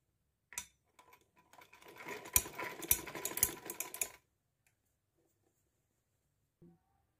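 Sewing machine stitching piping onto a fabric neckline, a close rapid mechanical whirring run of about three and a half seconds that ends abruptly in quiet.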